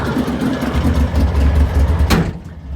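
A car engine idles steadily at just over 1,000 RPM, a continuous low rumble that stays loud and close before easing off near the end.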